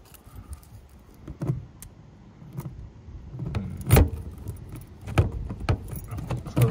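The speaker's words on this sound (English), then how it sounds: "I'm gonna see if I can get this lock to turn. I'll know if I have the right keys." Keys jangle and scrape in a motorhome door lock, with irregular metallic clinks and a few sharper knocks as the lock is worked, close by and without speech.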